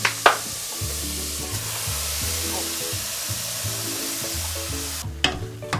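Minced meat for chili con carne, with beans and corn, sizzles steadily in a pan. A utensil stirs it in rhythmic scraping strokes, and a couple of sharper clatters come near the start and near the end.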